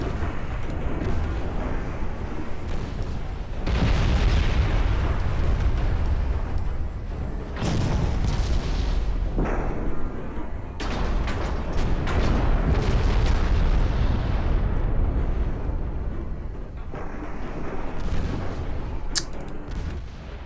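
Naval shells pound the battleship Texas in a strategy game, producing a loud, continuous barrage of deep booms and crashing impacts that swell and recede in waves over twenty seconds, with a few sharp cracks near the end.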